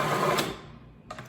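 A food processor whirs loudly as it blends the wet ingredients for banana bread muffins with oats and chocolate, a dense steady motor roar that winds down partway through, followed by a short clatter near the end.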